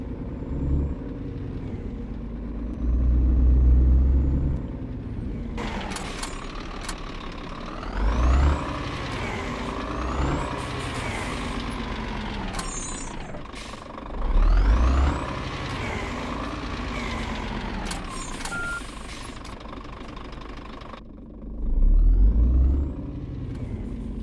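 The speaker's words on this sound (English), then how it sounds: "we have that nice little Scania wind down, which is very true to the Scania brand" A Scania truck engine in the video game On The Road idling and revving, with rising and falling engine tones, then winding down, plus several loud low thumps like air brake releases spaced through the sequence.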